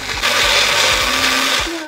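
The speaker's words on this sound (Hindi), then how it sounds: "चलें तो हम इसे अपने ब्लेंडर ग्राइंडर जो भी हो उसमें डाल लेते हैं।" A blender whirs loudly and steadily as it grinds vegetables, with a faint rhythmic thumping underneath.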